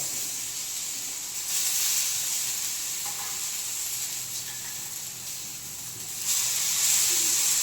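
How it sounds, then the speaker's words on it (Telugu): Brinjal slices frying in a little oil in a pan, Andhra-style vankaya fry, turned to cook on both sides: a steady close sizzle and hiss throughout, swelling louder near the start and again toward the end. "ఇలా ఉన్నవాటిని జస్ట్ అలాగా రెండు వైపులు మనం ఫ్రై చేసుకోవాలి"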